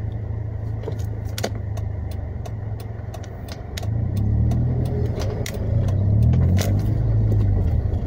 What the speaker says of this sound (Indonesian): jembatan ya, tadi ada truk